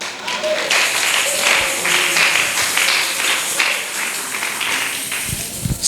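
A church congregation applauds and cheers in a sustained wash of clapping and shouts, loud and continuous, with voices rising through it.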